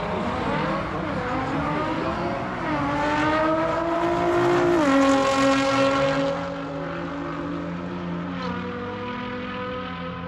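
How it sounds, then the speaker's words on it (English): A Nissan R35 GTR launches down the Santa Pod drag strip, its engine note rising in a strong climbing whine, shifting and pulling again as it recedes, loud at first and then fading with distance. "R35 GTR about to run."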